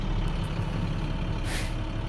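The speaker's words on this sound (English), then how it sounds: "Hear that governor cut out again." A truck's air brake governor cuts out with a short, sharp burst of hissing air over the steady low idle of the engine.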